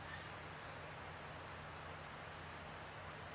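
Rain falls steadily in the farming video game Farming Simulator 19, a faint, even hiss of showers with no voices.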